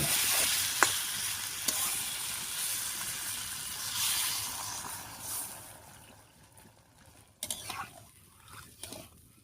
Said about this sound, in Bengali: সব কিছু কষে একেবারে তেল ছেড়ে দিয়েছি। এবার জল দিয়ে দিচ্ছি।